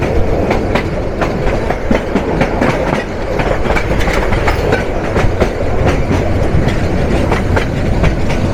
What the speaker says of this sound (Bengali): মাঝগ্রাম জাংশন থ্রু পাস করে যাচ্ছে রংপুর এক্সপ্রেস।